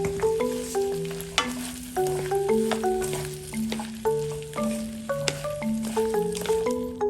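Sausage and vegetables stir-fry in a pan with sesame seeds added, a soft steady sizzle running underneath a louder melodic background tune for the whole stretch.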